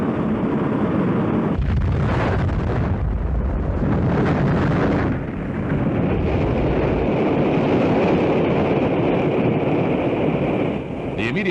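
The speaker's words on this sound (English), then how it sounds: "The immediate cause of the explosion is not known" Atlas-Centaur rocket exploding shortly after launch while climbing to about 30,000 feet, a loud, sustained roaring blast with rumbling bursts that continues across the whole stretch, with voices faintly mixed in.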